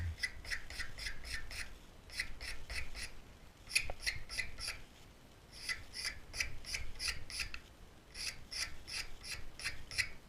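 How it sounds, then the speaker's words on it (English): A wooden Windsor bench part is scraped to fit, producing bursts of short, rhythmic rasping strokes in quick runs separated by brief pauses, fairly close and moderately quiet. "I know these need a little bit of scraping. So I'm going to just take a little bit off of the top here."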